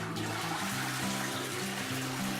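Water running steadily from a household tap, shower or toilet, a continuous broadband rush with a low tonal hum underneath, close and constant throughout with no voices.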